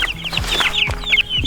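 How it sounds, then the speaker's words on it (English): Small chicks in a brooder peep in high, rapid chirps against a busy background of clucking fowl, with short low thumps and scuffs scattered through, close and steady. "And with all the chicks that were in this brooder"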